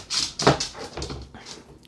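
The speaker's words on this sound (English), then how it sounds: "That's my dog playing around in the background." A pet dog plays nearby, letting out a short series of high whimpers and yips, fairly quiet and close, with no talking.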